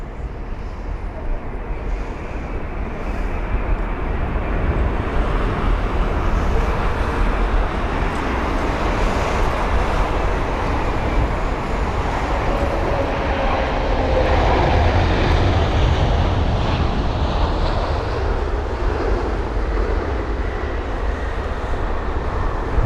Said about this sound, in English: And here it is for its arrival into London Heathrow